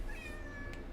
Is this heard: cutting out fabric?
no